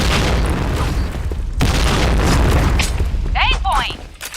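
A grenade explodes in a video game shooter with a loud, close, roaring blast that rumbles on for seconds before fading, and voices are heard near the end.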